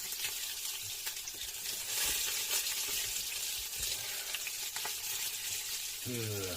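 Loud, continuous sizzling of batter-coated hake frying in hot oil, with occasional clinks and a brief low hum near the end.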